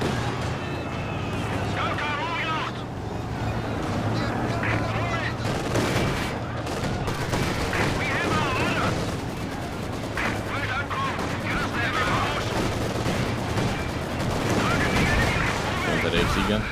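Dense, continuous gunfire with heavy artillery-like booms in a World War II video game battle, rapid bursts and machine-gun rattles layered over one another throughout, with voices talking underneath.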